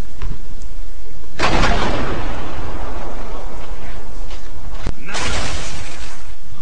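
Sniper rifle shots in the video game Gears of War 2, two sharp loud cracks a few seconds apart, each trailing into a long noisy burst and decay.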